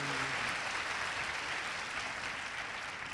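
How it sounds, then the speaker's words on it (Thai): An audience applauds at a business presentation event, a continuous broad wash of clapping that holds steady and fades slightly toward the end. "ขอเสียงปรบมือค่ะ"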